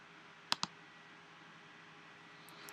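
A few sparse computer keyboard keystrokes, made while entering a title into a text layer: two sharp clicks close together, then a pause and a couple of fainter taps.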